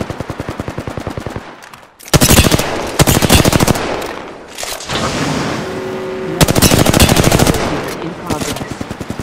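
Rapid machine gun bursts in Apex Legends, loud and close, in several dense volleys separated by brief pauses, with rattling automatic fire dominating throughout.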